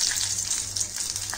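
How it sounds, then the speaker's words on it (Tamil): Cinnamon, cloves, pepper and fennel sauté in oil for a chickpea curry, giving a soft continuous sizzle with light crackles, close but fairly quiet. "இதை விட்டு கொஞ்சம் வதக்கணும்."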